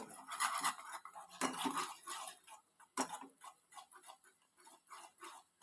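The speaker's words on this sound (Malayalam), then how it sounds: "നല്ലപോലെ ഇളക്കി കൊടുത്തുകൊണ്ടിരിക്കണം മിക്സ് ചെയ്തുകൊണ്ടിരിക്കണം" A mixture being stirred continuously in a pan, close metallic scraping and clinking of a spoon in quick strokes with a few louder knocks, fairly quiet and without talk.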